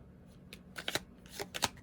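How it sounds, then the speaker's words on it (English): Romance oracle cards shuffled by hand in a quiet room, a few quick soft riffling bursts close up. "I'm going to pull some romance oracle cards"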